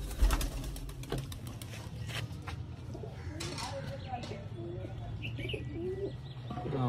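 Pigeons coo softly at a home pigeon loft, with faint, intermittent low coos and a few chirps set back in quiet surroundings while people talk nearby.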